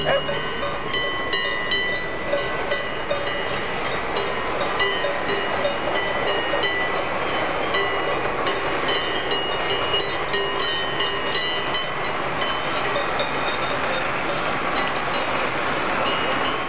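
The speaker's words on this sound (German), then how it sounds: "Da unten kommt die Bahn von Grindelwald herauf." A Wengernalpbahn rack train climbs up from Grindelwald in the Swiss mountains, its control car leading and the motor car pushing behind. It makes a steady, fairly loud rumble and rattle throughout, with faint clicking and no talk.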